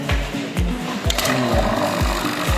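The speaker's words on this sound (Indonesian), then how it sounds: "Kita nyalakan langsung saja vakumnya ya" A vacuum pump starts up for an RHVAC system installation and runs with a loud, steady rhythmic thumping pulse that repeats about twice a second over a constant mechanical hum.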